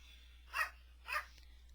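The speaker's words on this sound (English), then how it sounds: "Sorry about that, it's my dog." Two short dog barks at a distance, about half a second apart, faint against low room hum.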